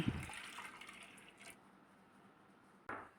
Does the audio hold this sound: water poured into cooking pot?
yes